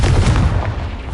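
A fire-blast spell explodes in the game Hogwarts Legacy, a loud, deep, booming burst that rolls on as a dense rumble for about a second, with no talk.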